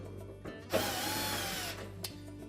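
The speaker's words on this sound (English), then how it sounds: "we'll want to remove these two screws that sit just below the lint filter housing" A power driver whirs briefly to back out a front panel screw on an LG clothes dryer, with faint clicks before and after, close and clear.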